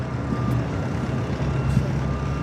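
A truck's reversing alarm beeps steadily near a car hauler trailer at LAX, a thin repeating tone over a constant rumble of idling engines and vehicle noise, moderately distant.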